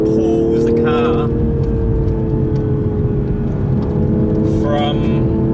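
A 2021 Toyota GR Supra GTS accelerating hard through its mid-range, a steady engine drone with a rising tonal whine heard from inside the cabin, with people talking over it at the start and end.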